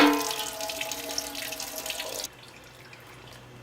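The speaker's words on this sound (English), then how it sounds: "While the radiator's draining" Coolant pouring from a motorcycle radiator into a drain pan, a steady splashing trickle like running tap water that cuts off suddenly, leaving faint drips in quiet.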